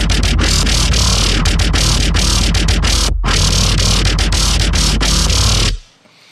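A dense, loud synth bass line from an electronic track pumps in rapid rhythmic pulses with one brief dropout, then cuts off abruptly near the end into a faint tail.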